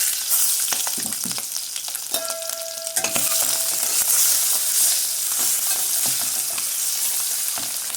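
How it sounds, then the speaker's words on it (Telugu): Steady crackling sizzle of boiled eggs frying in a pan for drumstick egg curry, with occasional scraping clicks of stirring throughout. "అన్ని సైడ్లు ఫ్రై అవ్వాలి కాబట్టి మధ్యలో ఇలా కలుపుకుంటూ ఉంటే సరిపోతుంది."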